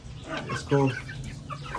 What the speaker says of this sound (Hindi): इस केज में भी हमारे these are one of the most exotic ऐसे मुर्गे दुनिया के